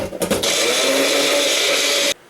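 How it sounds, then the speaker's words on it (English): A Magic Bullet blender chops a chili pepper in its receptacle, a loud, steady high-pitched motor whir running for about two seconds after a few short bumps, then cutting off abruptly. "put it in the magic bullet receptacle, spin that hoe around for a little bit"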